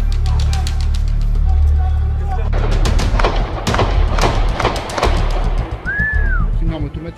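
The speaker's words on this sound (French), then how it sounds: "C'est une arme automatique." Automatic weapon fire in a dramatized scene of the Charlie Hebdo attack: a rapid string of sharp, loud bangs cracking out over several seconds amid frantic shouting voices and background commotion.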